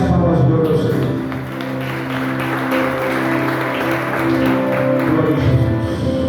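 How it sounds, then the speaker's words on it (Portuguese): A church congregation applauds during a worship service, with clapping mixed with sustained organ or keyboard tones and crowd voices underneath, continuing steadily throughout. "E as palmas do meu Senhor."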